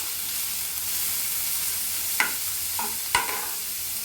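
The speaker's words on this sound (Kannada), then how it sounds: "ಈರುಳ್ಳಿ ಸ್ವಲ್ಪ ಟ್ರಾನ್ಸ್ಪರೆಂಟ್ ಆಗಬೇಕು, ಫ್ರೈ ಆಗಬೇಕು ಫ್ರೆಂಡ್ಸ್." Small onions frying in a pan for a chapati side dish, a steady, even sizzle running throughout, broken by a couple of sharp scraping stirs near the end, with no voices.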